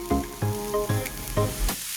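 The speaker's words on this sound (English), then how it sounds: "I just have a little bit of grapeseed oil in my pan, and I'm just gonna saute this until it's soft" Serrano pepper and white onion sauté in grapeseed oil in a pan, a close sizzle broken by several rhythmic stirring knocks and scrapes of the utensil against the pan.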